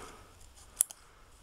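Scissors snip once through paper while cutting out a small paper figure, a single crisp close cut with a quieter click just after it, set against near silence.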